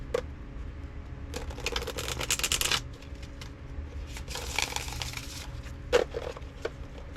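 Tarot deck of supple cards being riffle-shuffled by hand, two long crisp bursts of fluttering card clicks with a short pause between them and a few soft taps of cards after, close and alone.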